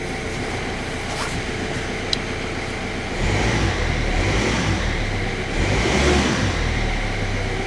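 A Kia Rio, recovered after being stolen and started without keys, idles steadily with a smooth, even hum, then revs up and holds at a higher, fuller pitch, close and loud with no talking.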